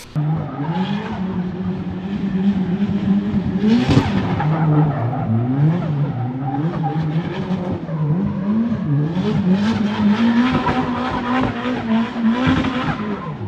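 A Nissan S13 fitted with a Tomy 2-way differential and new bearings and seals is test driven, its engine droning loud and close and rising and falling through revs, with repeated tire squeal and skidding throughout.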